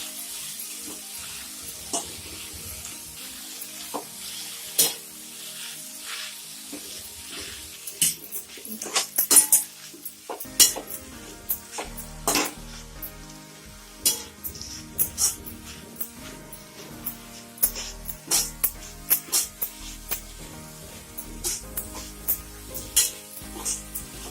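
Fenugreek leaves stirred and sautéed in oil in a pan for a Marathi methi bhaji, soft sizzling under intermittent scraping and clinking of the spoon against the pan, with louder stirring bursts.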